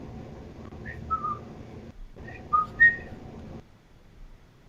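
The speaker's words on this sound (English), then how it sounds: "I'm just whistling." Someone whistles a few brief, scattered notes over a low hum, with short gaps between them before the sound trails off.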